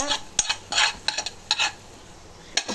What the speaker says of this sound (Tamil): பூண்டு நல்லா கொஞ்சம் ரோஸ்ட் ஆகிட்டுருக்கு